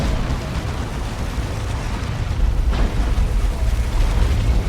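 An orbital bombardment in Dawn of War 2, during a Space Marines versus Eldar match, roars as a loud, sustained, heavy rumble of explosions with dense low-end noise and a slight swell partway through.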